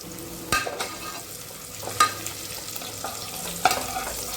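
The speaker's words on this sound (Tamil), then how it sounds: "வெங்காயம் நல்லா வதங்கணும்" Onions stirred and sautéing in a pan for vegetable biryani, a steady frying sizzle broken by three sharp clanks of a spoon against the pan, close and moderately loud with no talk.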